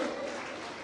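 A crowd applauds at an alumni association event to welcome former students from the year India first won the World Cup. The clapping is dense and continuous, slightly fading, with a faint voice mixed in near the start.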